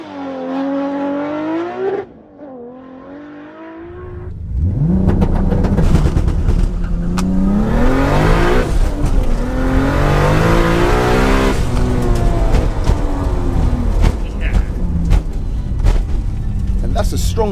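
A 900bhp Toyota Supra and an 800bhp Nissan Skyline R34 GT-R idle, then launch and accelerate hard with loud roaring engines and rising revs through gear changes, close and sustained, with voices audible early on.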